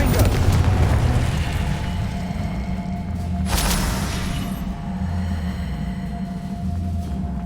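A Confringo blasting spell detonates in Hogwarts Legacy, one loud booming burst midway through amid rumbling combat noise and brief talk.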